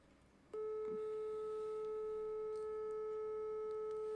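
A steady electronic test tone plays into a desktop mini microphone for a distance test. It switches on abruptly after a brief quiet stretch and then holds one pure, unbroken pitch with faint upper harmonics, alone and without talking.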